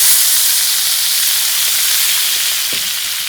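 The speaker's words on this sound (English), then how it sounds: "So deglaze our pan. Get the last bit of my lime juices in there." Butter and lime juice hit a hot pan to deglaze it, giving a loud, steady sizzling hiss that holds evenly close by for the whole stretch, with no talking.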